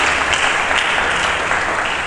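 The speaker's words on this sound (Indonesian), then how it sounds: "Mari kita berikan tepuk tangan yang meriah bagi Yesus Kristus." Loud, continuous applause from a church congregation during a sermon, a dense even wash of many hands clapping with no speech.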